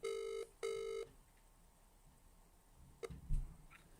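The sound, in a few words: telephone ringing while calling back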